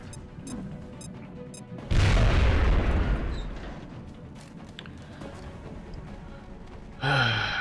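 Grenade explosion in the video game X-Com: Enemy Within, a loud sudden boom with a rumbling tail that fades over a couple of seconds, followed by game sounds and a brief voice.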